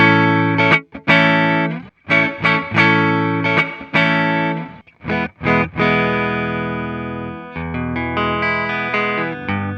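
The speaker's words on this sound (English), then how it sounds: "I believe this is an electric guitar" Electric guitar played through a dry Fender Twin Reverb amp setting, a sequence of sustained distorted chords with sharp stops between them, loud and close with no talk.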